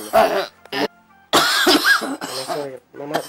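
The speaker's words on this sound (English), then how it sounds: "this your cough is becoming more serious" A mother coughs in a Nigerian Nollywood drama scene, several rough bursts broken by short pauses, close and fairly loud, mixed with voiced throat sounds.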